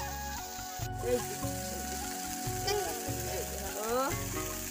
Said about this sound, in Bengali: আর এই যে ফুলকপি আলু দিয়ে ভালো করে ভেজে নিচ্ছি